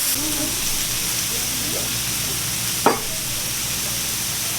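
Shrimp sizzle on a hibachi grill with a steady hissing fry throughout, plus a brief sharp scrape or clatter partway through.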